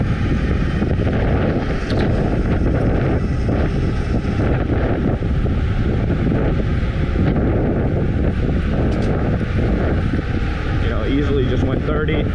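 Heavy, continuous wind roar buffets the microphone while a Super73 e-bike cruises at about 30 mph into a headwind, loud and steady for the whole stretch with a voice partly under it.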